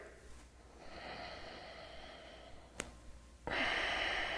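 Steady breathing during a morning beginner yoga lunge, a soft airy exhale stretching across the first seconds, a brief sharp sniff near the end, then a louder rushing breath closing it out; no talking.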